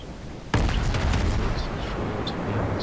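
Ship guns fire in a naval battle in the video game World of Warships: one sudden heavy boom, followed by a rumbling, crackling tail that fades slowly.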